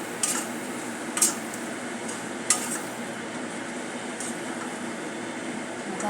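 A spoon scrapes and clinks against a pan while stirring a kurma bhaji mixture, giving a few sharp metallic ticks over a steady low hum of background noise.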